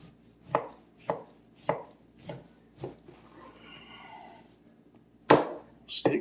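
A knife cuts strip loin beef into steaks on a board, about seven sharp, evenly spaced chopping thuds with a quieter stretch of slicing between, close up with no talking.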